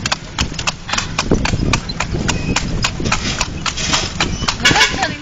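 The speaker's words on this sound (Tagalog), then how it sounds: "Sakay ka ng kabayo." A horse pulling a kalesa carriage around Luneta clip-clops with a steady, brisk run of hoofbeats on pavement, close and continuous, with people talking throughout.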